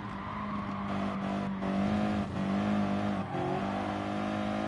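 Racing car engine in the video game Gran Turismo Sport, a steady loud drone that rises and falls with revving and gear changes, alone with no talk.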